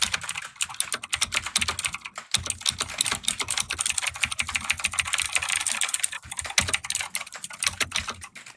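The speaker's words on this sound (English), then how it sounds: "What are you typing over there?" Fast, steady typing on a computer keyboard, dense close clicking that runs almost without pause, broken by only a few brief gaps.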